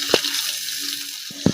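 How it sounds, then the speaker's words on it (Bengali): Fish frying in a pan gives a steady hissing sizzle, broken by two sharp knocks or scrapes near the start and end, loud and close with no talk. "বন্ধুরা দেখুন কিভাবে মাছটা ভাজা করছি"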